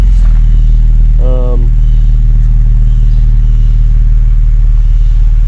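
Deep, steady exhaust rumble from an idling 2015 Ford Taurus SEL with Magnaflow mufflers and resonator, loud and close throughout with an even low drone and no talking.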